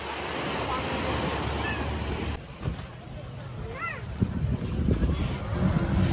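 Boat riding over sea waves off a Goa beach, a dense rush of wind and water that drops away partway through, leaving lapping waves and splashes, with voices talking over it.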